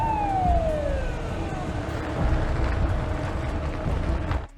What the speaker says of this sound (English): a police car appears behind them, flashing its lights and signaling for them to pull over